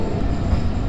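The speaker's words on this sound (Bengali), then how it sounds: "এই যে আমাদের ট্রেন কাশিয়ানী জংশনের মধ্যে ঢুকতেছে" The Tungipara Express rumbles into Kashiani Junction with a loud, steady low roar of rolling wagons heard from on board, and no voices over it.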